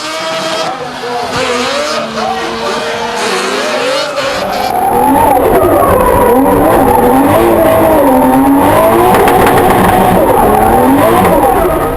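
Drift cars battling at a D1NZ drifting event, including a Nissan R32, with engines revving hard and loud tire squeal close by, building into a sustained, overlapping roar of screaming engines and skidding tires.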